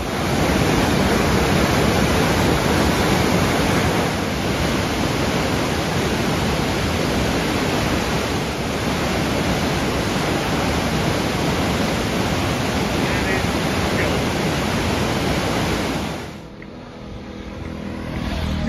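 A river rushes over standing waves in a loud, steady roar of broadband water noise that holds for most of the stretch, then drops away abruptly near the end.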